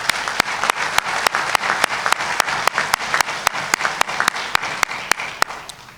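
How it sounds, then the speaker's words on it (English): Audience at a detention academy graduation ceremony applauds steadily, a sustained wash of clapping with one pair of loud, evenly spaced claps standing out close by and ringing through until the end. "Let's give them a round of applause."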